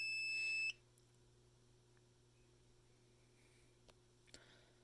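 A fire alarm panel gives a short, steady electronic beep after a system reset, then falls to a faint hum with a few soft clicks.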